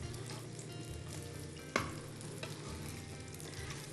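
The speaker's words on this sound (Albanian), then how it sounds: "Skuqën qoftet." Meatballs with vegetables frying in a pan, giving a constant sizzle and crackle nearby, with one sharp clatter midway as they are turned or stirred.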